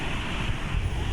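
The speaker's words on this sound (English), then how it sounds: "we could hear the next waterfall" Broad, steady roar of the Baizhang waterfall cascade in China, a continuous rushing of falling water heard close and loud with no talk.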